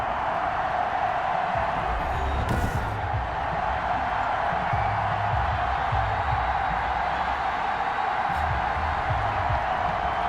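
A dense, steady roar of a stadium crowd at an NFL game between the Carolina Panthers and Miami Dolphins in a football video game, continuous and loud throughout with cheering.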